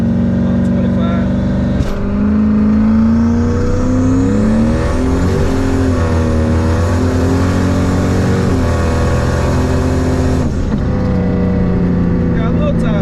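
A turbocharged Camaro engine revving hard on street tires, loud and close, climbing steadily in pitch and holding high before easing back, with voices talking over it.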